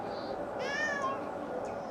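A cat in the RuneScape 3 game world lets out a single drawn-out meow, clear but moderate in level, over a steady background of ambient hiss and music.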